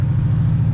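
A 2024 6.7 Powerstroke truck with its exhaust brake engaged gives a loud, steady, deep engine-braking rumble, heard briefly and close.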